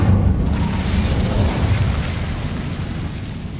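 A fire spell cast in Hogwarts Legacy gives a loud, roaring burst of flame that rumbles steadily for several seconds, heavy and close, with no other sound over it.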